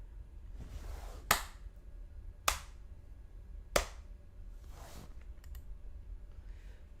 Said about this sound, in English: Suddenly, a dry clapping could be heard.